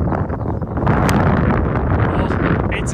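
Strong gusty wind on the Eden Course golf links at St Andrews buffets the microphone with a loud, continuous low roar, swelling and easing slightly over a few seconds.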